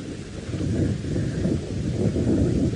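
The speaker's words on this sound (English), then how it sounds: "Storm progressing beautifully as it rolls across towards us" Distant thunder from an approaching thunderstorm rumbles low and continuously across the African bush at sunset, a broad steady roar mixed with wind noise and no voices.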